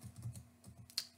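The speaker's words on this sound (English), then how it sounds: "I'm going to type in the URL" Light keystrokes on a computer keyboard while a URL is entered into a web browser, a quick, faint run of a few soft taps with a slightly sharper final click, heard alone.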